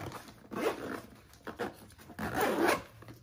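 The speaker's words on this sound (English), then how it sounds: "the main compartment has two zippers. Opens up like this" Zipper on the main compartment of an urban survivalist bug out bag being pulled open in two quick rasping runs near the microphone, with a pause between them and no talk.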